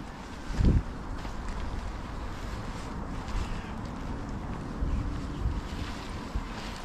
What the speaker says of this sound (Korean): 바람 들어옵니다, 위에.